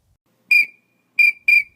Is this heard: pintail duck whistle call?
yes